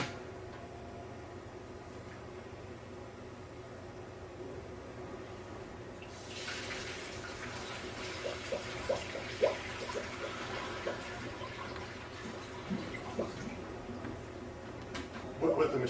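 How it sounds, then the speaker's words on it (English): Two gallons of liquid draining out of a SaniServ shake machine during cleaning, a steady splashing gush of water that starts partway through over a constant machine hum, moderately loud. "I'm going to shut the machine off, close it, dump this 2 gallons, and repeat the process"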